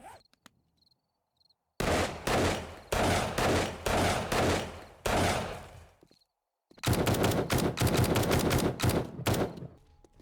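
Loud rapid gunfire from powerful weapons in the video game 7 Days to Die, such as the Desert Vulture pistol and a tactical assault rifle, with several dense automatic bursts separated by brief pauses.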